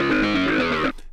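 A distorted Rob Papen Predator2 synthesizer sequencer preset plays a dense, gritty pattern of bright tones for about a second, then cuts off abruptly into a faint tail.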